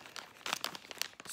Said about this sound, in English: I have these really cool scissors that just give me a little cut.